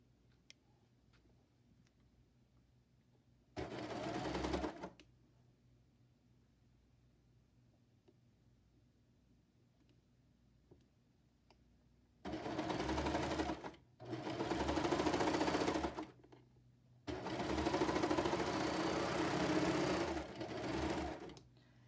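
A serger sewing machine runs in three bursts, a short one then two longer stretches, a fast steady whirring stitch with quiet pauses between.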